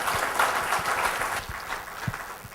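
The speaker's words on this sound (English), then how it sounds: "So let's give a big round of applause." Applause from a conference audience at a lean business summit session in India, fairly steady and moderately loud for about two seconds before thinning out.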